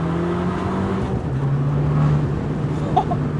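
Abarth 595 Competizione turbo engine pulling in second gear, a steady interior drone rising slightly in pitch with a faint turbo whistle, heard from inside the cabin with no talking.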